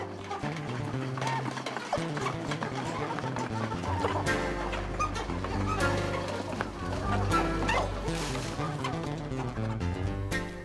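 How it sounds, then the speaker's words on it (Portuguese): Chickens on a small farm grow agitated at feeding time, clucking busily with overlapping calls and scuffling over a dense, continuous background of other noise. "Já na propriedade de seu Simval, podemos ver como os frangos ficam agitados quando chega a hora da ração"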